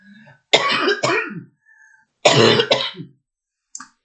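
Someone getting over a cold coughs close up, two harsh bursts of deep, hacking coughs with a brief gap between them, followed by a small throat sound at the end.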